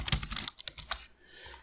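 Typing on a computer keyboard while coding in Visual Studio Code: a quick run of close, crisp key clicks for about a second, then a short pause with only faint room hiss.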